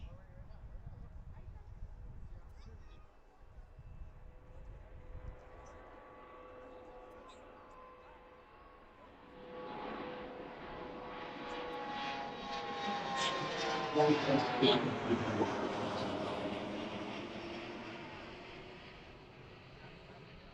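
An airliner arriving at Washington Reagan National Airport rumbles in faintly at first, then swells into a loud, drawn-out engine roar as it passes nearby, with a person talking over the early part.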